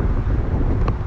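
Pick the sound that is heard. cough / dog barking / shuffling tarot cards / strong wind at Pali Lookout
strong wind at Pali Lookout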